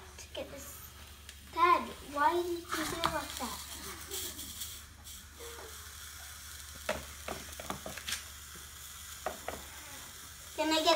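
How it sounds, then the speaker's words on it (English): French toast frying in a pan, a low steady sizzle under a child's and an adult's talk, with occasional clatters as slices are moved around. "French toast things in pan."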